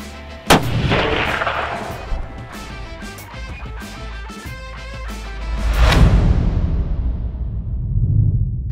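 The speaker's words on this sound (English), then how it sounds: "when Gene kills this monster 6-point, the last day of the season." A hunting rifle shot at a six-point deer on the last day of the season, one sharp, loud crack rolling into a long echoing boom, followed later by a second heavy blast and rumble.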